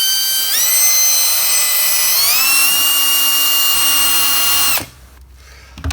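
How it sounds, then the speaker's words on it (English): A drill fitted with a small flap disc runs on a steel bicycle frame tube during hardtail weld prep, a loud high motor whine that climbs in pitch and holds before cutting off near the end. "This is like a little flap disc thing that you can put in a drill or in a die grinder."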